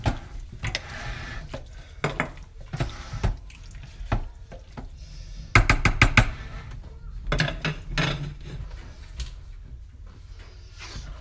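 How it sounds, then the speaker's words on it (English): Thick chili is stirred in a crock pot with a utensil. Wet scraping and clacking against the pot come in irregular bursts, with a faster run of knocks partway through, all close and moderately loud. "I'm just going to give it a really good stir"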